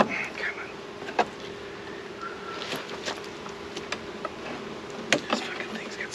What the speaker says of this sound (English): Man, hope all these bees will fit. There's a lot.